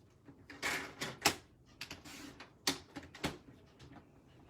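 Cardstock being cut into half-inch strips for a 12x12 one-sheet-wonder poppy card project, heard as a handful of sharp, close snipping and slicing clicks spaced irregularly, with quieter rustling of paper between them.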